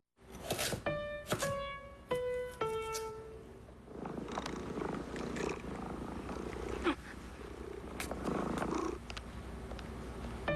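A house cat gives several short, clear meows up close, then settles into a steady, rumbling purr that continues to the end; no voices.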